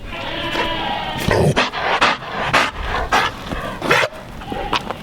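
Dogs on a cold-weather homestead pant in quick, breathy bursts at close range, mixed with shuffling and rustling, no talk.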